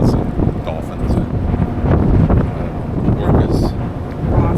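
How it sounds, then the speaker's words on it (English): Strong wind buffets the microphone in Alaska while people wait for a whale-watching guide boat, a loud continuous rumbling roar with gusty swells and voices partly buried underneath. "it's probably going to sound very windy in the video"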